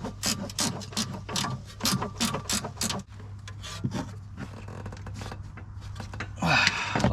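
A ratchet tightens a bolt on the rear control arm of a BMW E60, rapid clicking strokes in close bursts, then a pause and a final scraping turn near the end.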